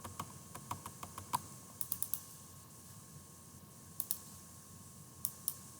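Sharp computer keyboard key clicks, faint and sparse, coming as single taps and quick short bursts spread irregularly across a quiet room background.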